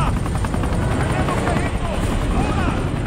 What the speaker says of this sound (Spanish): se dirige a un helicóptero